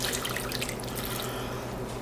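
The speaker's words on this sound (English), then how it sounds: "4 to 6 cups of water, just making sure that you don't overfill the pressure cooker" Water pours steadily into a pressure cooker for vegetable soup, a continuous close splashing and bubbling stream with no talk over it.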